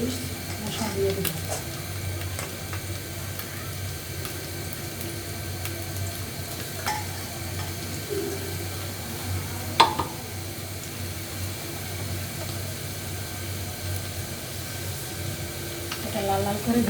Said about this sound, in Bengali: এটা লাল লাল করে ভেজে নেব।